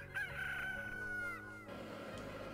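A chicken in Billy Hatcher and the Giant Egg gives one drawn-out cock-a-doodle-doo crow, clear and fairly close, fading into quieter game sounds.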